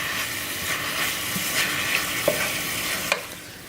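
Spinach fries in a pot, giving off a loud continuous hiss and sizzle, with occasional clicks and scrapes of stirring close by and no speech.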